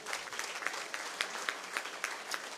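An audience at a humorous Tamil public speech breaks into light applause, a soft patter of scattered claps with a few sharper peaks, fairly faint and distant.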